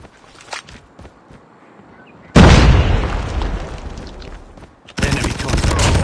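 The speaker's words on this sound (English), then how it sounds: "Grenade out." Grenade blast in Call of Duty Mobile Search and Destroy: quiet footsteps and faint game voices, then a sudden loud explosion that rumbles and fades, followed by another heavy burst of gunfire or blast noise.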